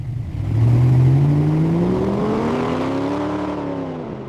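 A Ford Mustang's 4.6-liter V8, rated at 325 horsepower and freshly restored, revs up loud and close with a rising engine note that climbs smoothly and then levels off as the car accelerates.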